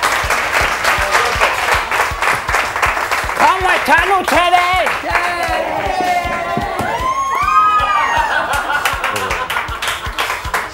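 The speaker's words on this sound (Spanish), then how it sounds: "un aplauso para Rüdiger, por favor" A studio audience at a television variety show claps and cheers for a clown named Rüdiger, loud continuous applause with children shouting, while a host's voice speaks over the crowd near the middle and end.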